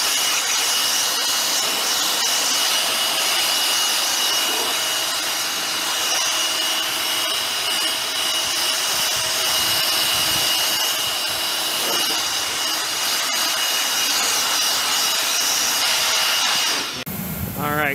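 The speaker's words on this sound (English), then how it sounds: "Contactor kicked in and she's running, buddy. It sounds like the freaking bearings are going out." A rooftop HVAC unit with failing bearings runs steadily and loudly in the snow, a constant broadband roar with a whining tonal layer throughout, cutting off abruptly near the end.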